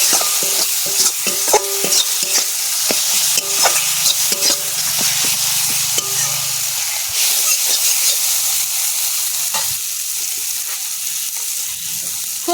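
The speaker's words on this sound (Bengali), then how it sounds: "সব মশলা খুব ভালো করে কষাই করে নিয়েছি" Ground spice masala fries in oil for a shingi fish and potato curry, a loud continuous sizzle with frequent spatula scrapes and taps from steady stirring, close up and without speech.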